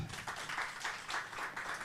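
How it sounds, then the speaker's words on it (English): Faint audience applause at a writers' gathering in Kigali, Rwanda: soft, rolling clapping from a crowd, heard as a continuous distant patter with gentle swells. "A big round of applause to African Writers Conference."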